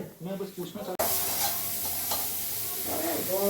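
Shukto, a Bengali mixed vegetable dish, being stirred and fried in a pan, with a loud steady sizzle and scraping stirs after a brief opening of a voice, close and continuous.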